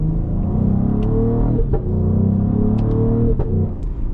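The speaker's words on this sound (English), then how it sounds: "You got a cool little pop on the exhaust between shifts." A 2026 Cadillac CT5-V luxury performance sedan heard from inside, its engine revving in a steady, droning pull, broken by brief pops from the exhaust between gear shifts.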